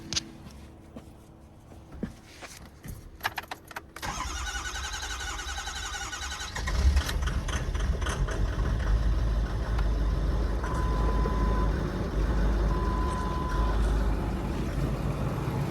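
A 2008 Ford F250 pickup with the 6.4 diesel, after lower fuel pump replacement, sits quiet with a few clicks, then cranks, starts and settles into a loud, steady close diesel idle with faint beeps.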